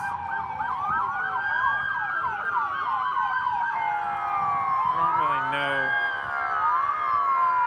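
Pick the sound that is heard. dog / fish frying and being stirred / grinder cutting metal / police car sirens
police car sirens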